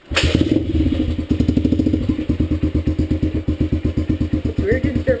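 A 2012 Dirt Runner motorcycle with a choke-assisted cold engine catches and keeps running, a loud, close, steady chugging thump that carries on throughout.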